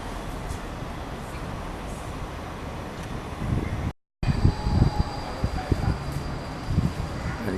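Gold Coast NGR passenger train arriving at a station, a continuous low rumble and rattle with wind noise, broken by a brief dropout partway through.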